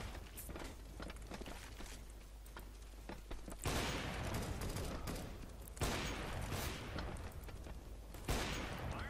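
Rapid bursts of automatic gunfire in the video game CS:GO, several loud sustained volleys in quick succession with shorter pops between them and no talking.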